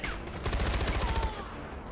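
Rapid bursts of gunfire from the Far Cry 4 video game, a fast rattling volley of close shots that swells in the middle and then trails off.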